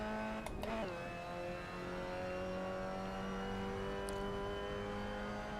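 A Mazda Miata engine in a racing video game holds a steady, high, buzzing drone at a constant pitch after a brief shift blip near the start.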